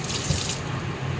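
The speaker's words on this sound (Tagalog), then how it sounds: "Galing gripo na tubig." Tap water runs from a kitchen faucet in a short, steady splashing stream, close and alone, while vegetables are prepared for a Chinese dish.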